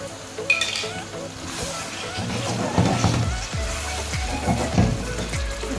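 Tomato paste being stirred into chicken handi in a pot, with a spoon clinking and scraping against the metal in several short strokes, soft sloshing in between, under a voice speaking Hindi.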